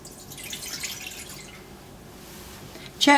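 Warm milk pours and trickles steadily into a container, a soft continuous stream, ending with a brighter splash as the flow finishes.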